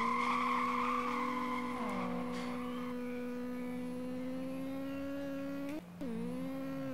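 A Honda Civic with a run-down engine, racing in the video game Street Legal Racing Redline, holds a steady high engine drone, dropping in pitch with a gear change and briefly cutting out near the end.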